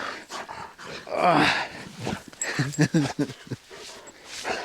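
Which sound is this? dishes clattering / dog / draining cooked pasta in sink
dog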